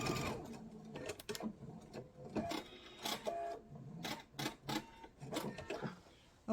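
A sewing machine stitches rows on a quilted mug rug in bursts of rapid mechanical whirring and clatter, stopping and restarting several times as the fabric is turned, close and fairly loud.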